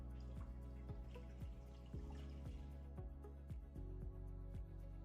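Water pours from a large jug into a pasta pot inside a Suvie Starchie countertop cooker, giving a steady close trickle with a run of regular dripping, splashing plinks as the level rises.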